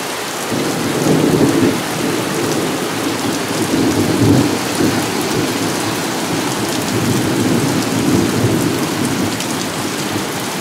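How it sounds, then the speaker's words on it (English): Heavy rain pours down in a thunderstorm, a steady loud roar of wind-driven rain with low rumbles of thunder rising and falling underneath, continuous throughout with no voices. "Almost raining sideways."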